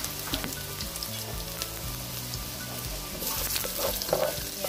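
Meatballs pan-frying in hot oil, a dense, steady sizzle with crackles and occasional spatula scrapes, loud and close, with no talking, rising slightly toward the end.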